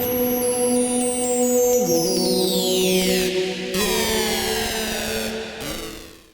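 A choir voice processed with a gritty redux (bit-crushing) effect, sustained tones sweeping and gliding in pitch with harsh, aliased overtones.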